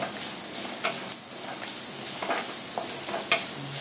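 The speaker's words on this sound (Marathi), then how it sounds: "कांदा लसूण मिरची ठेवा, चांगला आपला कांदा खरपूस भाजून घेऊया।" Onion, garlic and chili frying in a pan for a fenugreek leaf dish, with steady sizzling and a few soft scrapes as the pan is stirred, close and alone.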